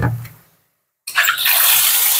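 Water splashes and rushes steadily into a large pot as six kilograms of chickpeas are rinsed, starting abruptly after a brief quiet gap and continuing loud and close.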